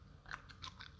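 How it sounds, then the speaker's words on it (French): Someone chews canned crunchy sweetcorn close up, giving a few faint, crisp crunching bites over about a second, quiet and alone without talk. "C'est vraiment du maïs croquant."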